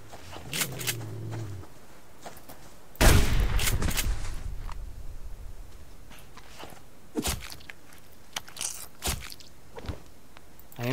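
A shotgun fired in a hardcore survival game: one loud close blast with a rumbling tail, surrounded by sparse sharp cracks and crunchy footsteps-like clicks scattered across a quiet stretch.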